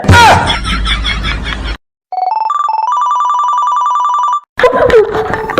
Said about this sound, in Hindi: पाकिस्तान से फोन आ रहा।